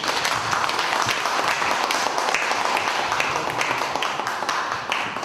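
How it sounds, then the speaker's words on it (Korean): A live audience at a Korean book radio talk event breaks into sustained applause, dense overlapping clapping that stays loud and even throughout with faint speech underneath. "네, 이쪽으로 박수 부탁드릴게요."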